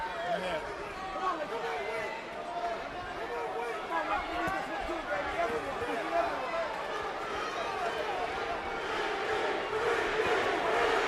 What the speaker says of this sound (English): Crowd chanting, Winky, Winky, Winky.